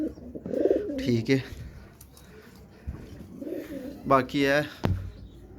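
Pigeons of the Fransa breed coo in a home loft, the soft calls mixing with someone talking over them in short bursts.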